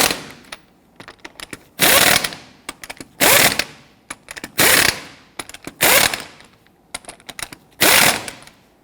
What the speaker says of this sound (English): We're now going to torque down our lug nuts to 103 foot-pounds.